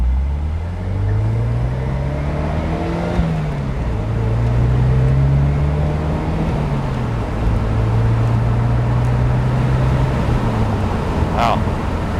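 A 2007 Saturn Sky Red Line pulling off in first gear, its engine droning steadily and loudly with the pitch rising and settling as the throttle is eased on, heard from inside the car.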